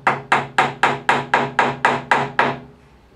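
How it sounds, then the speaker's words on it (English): About ten evenly spaced, sharp tapping strikes ring out loudly and close as an awl or small brad nail is driven to punch a hole in wood, the steady hammering rhythm ending abruptly. "you can take an awl or a small brad nail"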